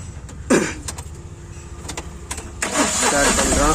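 A Tata Ace Gold BS6 mini truck, a vehicle with a starting complaint, cranks in short bursts and then catches, settling into a loud, steady idle up close.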